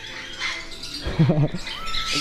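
A cockatoo calls in a short harsh squawking burst mid-clip, close and fairly loud, with lighter chirps and rustling around it.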